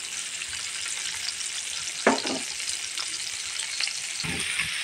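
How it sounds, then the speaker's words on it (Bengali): Koi fish fry in a pan after being rubbed with turmeric, chilli and salt, giving a steady loud hiss and sizzle with a couple of brief clatters from stirring or turning. "মাছগুলো আমি ভেজে নিচ্ছি"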